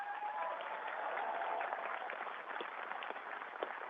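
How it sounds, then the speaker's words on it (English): Audience at a science festival applauding astronaut Tim Peake: steady, dense clapping from a large crowd, sustained and even throughout, heard at a moderate distance. "maybe a round of applause for Tim, please"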